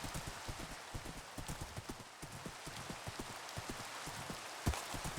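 Steady clip-clop of Minecraft horse hooves trotting in a regular rhythm over a constant hiss like rain, with one sharper knock near the end.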